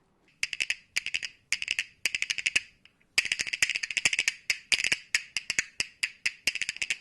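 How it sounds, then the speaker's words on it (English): Wooden bones clack in quick rhythmic bursts, sharp dry clicks in triplet-like patterns, close and alone, briefly pausing before resuming a steady groove. "The bones are also referred to as rhythm sticks."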